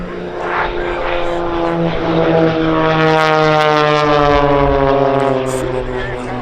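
Propeller aerobatic aircraft of the Blades display team fly head to head and cross at the centre at the Duxford Summer Air Show, a loud droning engine sweeping in pitch as they pass, with announcer commentary running underneath.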